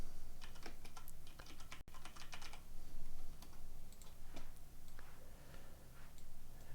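Soft, quick clicks of a computer keyboard being typed on nearby, in short irregular bursts with pauses between them.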